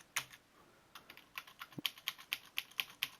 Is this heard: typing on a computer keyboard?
yes